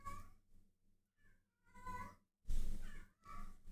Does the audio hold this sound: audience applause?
no